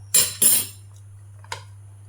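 Chopped onion and capsicum dropped into a bowl, two quick clattering knocks close together followed by a softer single tap a moment later, set against a steady low hum.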